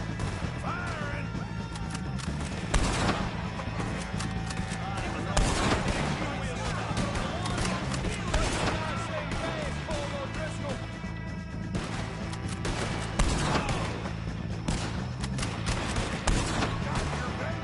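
A loud Red Dead Redemption 2 shootout: repeated gunshots and crashing impacts ring out across the whole stretch, with shouting voices mixed in among the bursts of fire.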